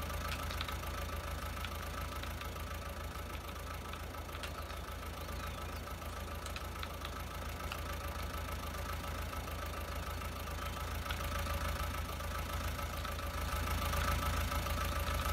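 Case tractor engine idling in Farming Simulator 19, a steady low continuous rumble with a faint mechanical hum, alone without talk.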